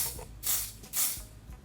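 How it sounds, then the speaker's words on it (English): Dior Air Flash spray foundation in shade 3N is sprayed onto a makeup brush in two short, soft hissing bursts, close up and quiet, with no talking. "And I'm going to spray directly on my brush."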